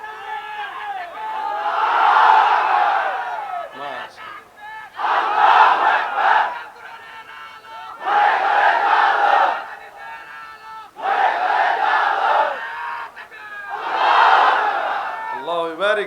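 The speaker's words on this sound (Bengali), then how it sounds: "তাকবীর দেন একটা বিবাহিতরা, নারায়ে তাকবীর।" A large crowd of married men at an Islamic waz gathering chants the takbir, answering a speaker's call. Five loud, swelling group shouts come in turn, each separated by a short pause.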